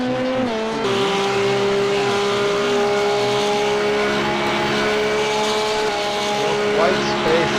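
Several GT2 race cars roar around a track in a sim-racing series, engines holding high, steady pitches with gear shifts and shifting tones as they pass, loud and continuous under a commentator's talk.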